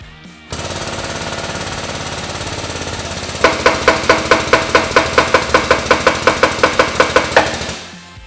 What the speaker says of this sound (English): we're gonna go ahead and press this shaft in